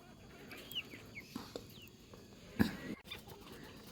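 Faint, scattered clucks from a few BV3T chickens over low background noise, with one brief louder thump near the middle.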